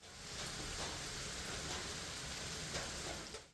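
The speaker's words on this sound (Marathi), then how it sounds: "तसाच पाऊस आत्ता पण पडत आहे तुम्हाला मी दाखवतो" Heavy rain pours steadily, a dense, constant hiss of drops with no pauses or voices.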